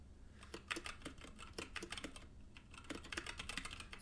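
Keys clack on a mechanical keyboard with 67g Zealio switches and PBT keycaps, close-up bursts of quick, uneven keystrokes with short pauses between runs, no talking.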